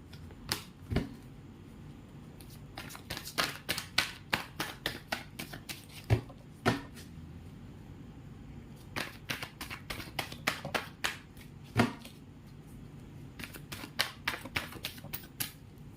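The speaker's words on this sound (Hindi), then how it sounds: "एक बार मैं कार्ड अच्छे से सफल कर लेती हूँ, चेक करेंगे।" A deck of cards is shuffled by hand, quick runs of crisp flicking clicks and taps in repeated bursts with short pauses between them, quiet and close with no talking.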